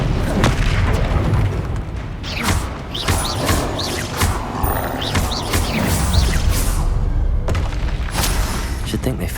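Spell blasts from Confringo and Incendio crackle and boom repeatedly in Hogwarts Legacy combat, dense loud explosive bursts layered over continuous game noise with voices talking throughout.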